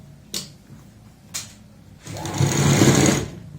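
A sewing machine stitches piping onto a kurti neckline, with two short clicks from the machine followed by one loud, close burst of rapid stitching lasting over a second.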